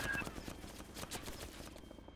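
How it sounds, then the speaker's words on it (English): A helicopter in the video game DayZ starts up with a rapid rhythmic chopping thump that pulses steadily throughout, fairly loud and without talking. "I'll start the chopper up so we can get in."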